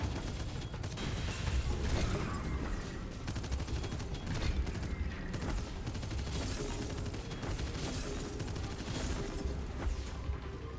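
Rapid gunfire from a weapon in the video game Abyssus, bursts of dense shots repeating steadily throughout with mechanical clatter between volleys, loud and close with no talking.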